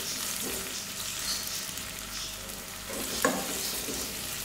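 Onions frying in a pan for dahi chicken, cooked only to light pink rather than brown: a steady close sizzle with a few soft stirring scrapes and a brief sharper clatter near the end.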